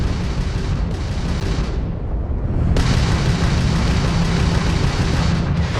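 Crimson Fleet ship weapons in Starfield space combat fire as loud, dense rumbling blasts with a brief dip before a sharp burst restarts the continuous barrage up close.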